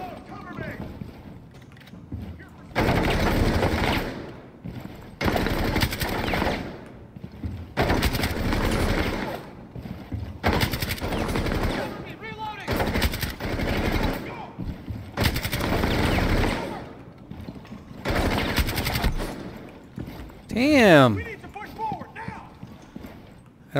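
Repeated bursts of automatic gunfire from a gun in Rainbow Six Siege, a handful of loud, close volleys of a few seconds each, separated by short pauses, with a voice talking between them.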